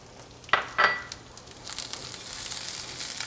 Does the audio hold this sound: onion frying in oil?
yes